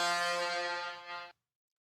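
A truck air horn gives one loud, steady blast of about a second and a quarter, then cuts off sharply into silence.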